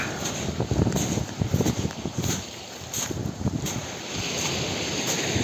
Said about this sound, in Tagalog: grabe, lakas yung alon.